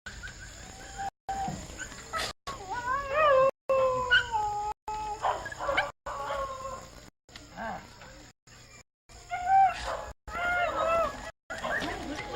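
Village dogs on the Sepik River howl and whimper in overlapping, wavering calls, several animals near and loud, with brief pauses between bursts and faint birds behind.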